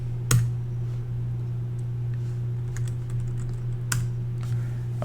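Computer keyboard keys are struck a few times as a Unix history command is entered, sparse clicks spaced over several seconds against a steady electrical hum, close and fairly clear with no talking.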